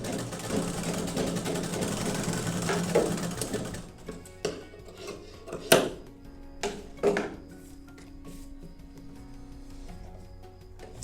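A sewing machine stitches a boat neck Lapeta blouse piece with a fast, close, whirring run for about four seconds, followed by scattered clicks, thumps and fabric handling as the stitching stops.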